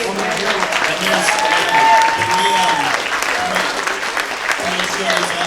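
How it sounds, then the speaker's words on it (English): Audience at a fan convention Q&A panel breaks into sustained clapping lasting several seconds, loud and dense, with voices talking underneath. "Please give Mark Phillips and Nightmares Unlimited a round of applause"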